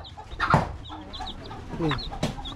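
A native chicken in rural Ilocos Sur, Philippines, gives a few short, nearby clucks in loose bursts, with soft voices and other farmyard sounds in the background.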